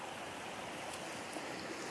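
A creek flows beside a campground along the Conejos River, giving a steady, faint rushing wash of water over rapids with no voices.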